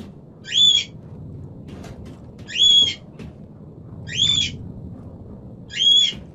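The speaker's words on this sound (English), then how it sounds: "bird, I can hear you, and you're chirping and chirping" A bird in the video game Silent Hill Homecoming gives four evenly spaced, shrill chirps, each a short bright burst about every second and a half, over a low murky ambient drone.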